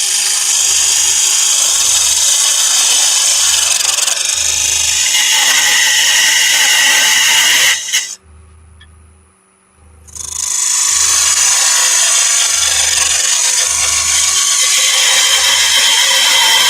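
Wood turning on a lathe while cutting tenons for a turned box: a loud, steady whirring cut with a rhythmic low thumping, which stops briefly for about two seconds and then resumes.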